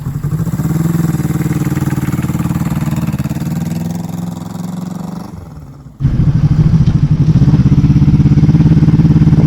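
A classic Honda CB250 K4 motorcycle idles steadily up close, its engine note rising slightly, then cuts briefly before revving back up loudly as it pulls away round a yard.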